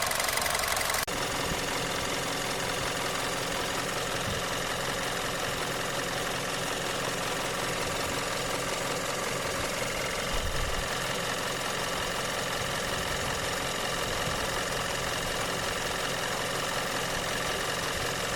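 A car engine idles with tappet noise and knocking, a loud, continuous mechanical clatter with rapid ticking over a steady hum, heard close and alone for nearly twenty seconds.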